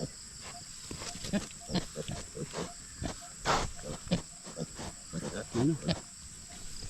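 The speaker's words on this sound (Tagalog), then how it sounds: "Mabait mga utol ang ating alagang baboy." A pet pig on a Filipino farm grunts in short repeated snorts close by, an uneven run of low grunts with someone talking between them.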